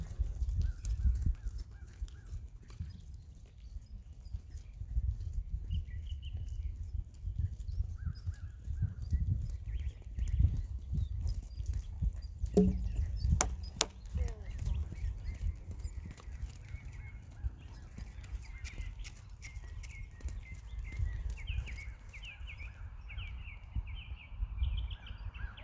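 A horse moving up into canter under a rider, its hoofbeats a low, steady thudding rhythm heard at a distance through ongoing background noise, with a few faint bird calls higher up.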